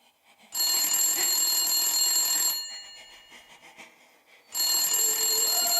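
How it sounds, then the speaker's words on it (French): An old landline telephone rings in a horror audio drama: a long, bright electric bell trill, a pause filled with faint noise, then the ringing starts again, loud and close. "regardait le vieux téléphone fixe sonner"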